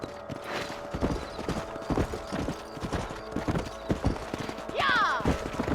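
Rhythmic clip-clop of horse hooves at a steady trot in the video game Red Dead Redemption, with a horse's whinny near the end and faint ambient game sounds underneath.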